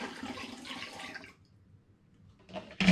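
Cranberry wine must poured into a demijohn, a steady gurgling liquid rush lasting about a second, then quieter trickling and a sharp final splash or clunk.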